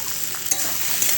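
Salt, chilli powder and turmeric are stirred into a hot pan for a paneer dish. There is a brief, close scraping sizzle with a single sharp clack of the spoon, and no speech.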